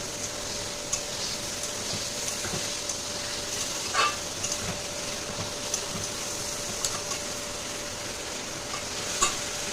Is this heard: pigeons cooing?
no